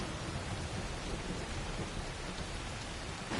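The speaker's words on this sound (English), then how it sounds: "It's one hell of a storm." A steady rain-heavy thunderstorm rolls through the world of Assassin's Creed Shadows, a dense constant hiss of rainfall with low rumbling underneath, moderately loud and uninterrupted.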